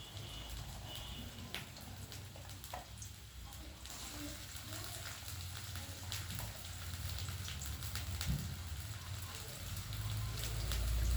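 Chopped onion frying in hot oil in a pan for an egg and roasted aubergine curry, giving a steady, close sizzling hiss that grows slightly louder toward the end.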